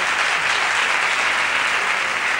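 An audience at a stand-up comedy show breaks into steady, dense applause, a loud uninterrupted wash of clapping with no voices above it.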